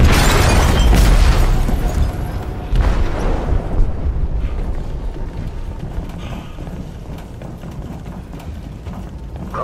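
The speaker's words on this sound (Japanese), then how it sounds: "貨物室で爆弾が爆発しました。" A bomb explodes in the cargo hold of the ship Jericho in the video game Detroit: Become Human. A loud, close boom hits at once, and deep rumbling fades over several seconds.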